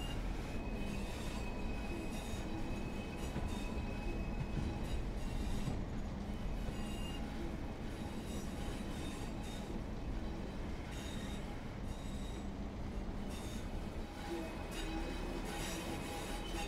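A Pacer diesel railcar runs on the Blackpool Branches line in Train Sim World 4, giving a continuous engine and wheel rumble with faint squealing tones and clicks from the track. The steady sound stays close and even throughout.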